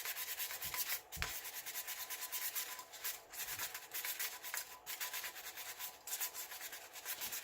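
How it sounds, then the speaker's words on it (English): Sandpaper rubs by hand over an epoxy-coated glitter tumbler in a continuous close scratchy rasp, with rhythmic strokes and a few soft knocks. "I'm still going to go around this bottom and top edges with sandpaper just to be safe."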